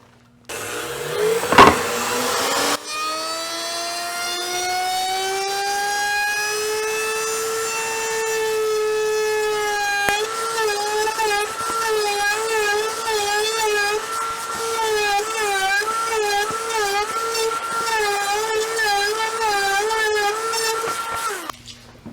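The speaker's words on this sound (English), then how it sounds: "We round off the edges of all of our boards with the router table." A router table with a round-over bit cuts the edges of epoxy resin and wood boards: a loud, close, tonal whine spins up, then holds steady, wavering and warbling as the bit cuts, with no talking.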